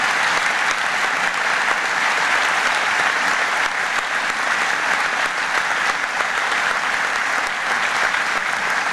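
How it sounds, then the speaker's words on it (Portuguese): Crowd applause for Rogério Bacalhau and his team fills a municipal swearing-in ceremony in Faro. The clapping is steady, dense and even, holding at one level for the whole stretch with no break. "E pediria para o Rogério Bacalhau e toda a sua equipa uma grande salva de palmas"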